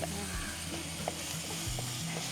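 Ingredients sauté in a pan for sardine curry, a steady, dense sizzle of frying with occasional soft stirring taps, close and even from start to end.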